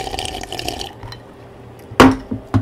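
Water in the side-scrolling video game Limbo, with soft liquid trickling at first, a quiet pause, then two sharp splashing drips close by.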